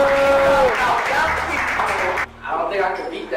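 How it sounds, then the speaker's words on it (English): An audience at a youth training session on teen dating violence claps and cheers for the youth director, a loud burst of applause mixed with voices that dips briefly before picking up again. "y'all clap it up for our youth director"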